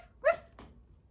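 A dog gives a single short bark followed by a brief soft whimpering yip, close by and clear against a quiet background.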